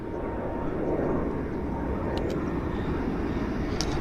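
Airliner climbing out of Vancouver Airport after takeoff, bound for Calgary, a steady, dense engine roar at moderate distance that stays even throughout, with no voices over it.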